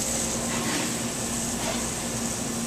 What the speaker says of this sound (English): You can hear it sizzling and cracking away.